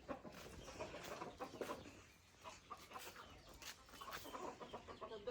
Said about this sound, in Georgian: რატო ეჩხუბები ქათმებს?